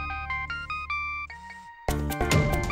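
A mobile phone ringtone plays a short, bright melodic pattern of repeated tones, then switches to a louder, denser phrase.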